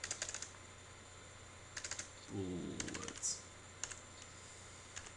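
Bursts of computer keyboard typing while scripting a Call of Duty–style gun in Unity3D, short clusters of quick clicks separated by pauses, close and moderately quiet, with a brief spoken word in between.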